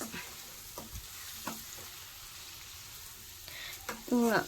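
Tamarind leaf and egg curry frying in a pan with salt and chili powder, stirred with a utensil: a steady soft sizzle broken by several scraping strokes and a louder clatter near the end.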